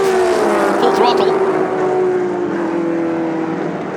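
A 1960s Shelby production race car at full throttle climbing a hill at Sonoma, a loud sustained engine drone with a slowly falling pitch, heard close and steady with commentary speech over it.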